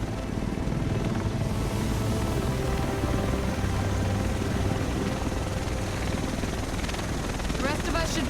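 A helicopter arrives in Tom Clancy's The Division over Manhattan, its steady rotor roar filling the scene loud and close, with a voice speaking over it.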